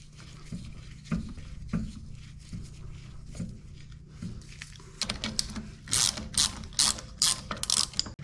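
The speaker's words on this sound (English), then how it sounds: "what I'm going to do is I'm going to crank on it and hopefully push that metal sleeve right through" A ball joint removal tool is cranked to press a metal sleeve out of a steering rack bushing, giving repeated ratcheting clicks and mechanical clunks, close by, with a faster burst of sharp ratchet strokes near the end.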